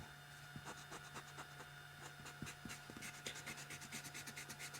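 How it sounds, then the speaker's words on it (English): An eraser rubbing out pencil lines on paper, quiet rapid back-and-forth scrubbing strokes heard close over a faint steady hum. "I'm going to erase these extra lines because you wouldn't see them"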